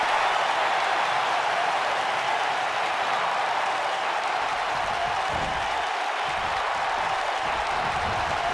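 A wrestling arena crowd roars and applauds in a dense, sustained wall of cheering that fills the whole stretch without letting up.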